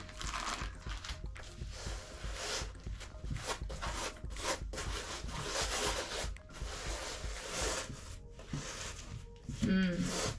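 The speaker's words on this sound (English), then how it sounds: "I'm going to add on the sandy texture now. And I might use my hands because I kind of want to rub it in." Hands rub sand texture into an abstract artwork, giving a continuous gritty scraping and crinkling with rhythmic strokes, close and fairly quiet.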